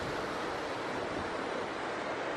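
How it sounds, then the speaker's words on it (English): Strong wind roars at the mountain lake Llyn Y Fan Fach, buffeting the microphone in a dense, unbroken rush that stays loud and steady, with no voices. "It's a bit windy up here, surprise surprise."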